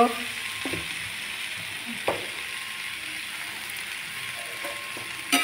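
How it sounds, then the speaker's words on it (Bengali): Noodles frying in a little oil in a kadai while being stirred, a continuous close sizzle with occasional sharp clacks of the utensil against the pan, no voices. "দেওয়া হয়ে গেল, এবার নাড়ছি। প্রথম ভালো করে একটু ভেজে নিচ্ছি।"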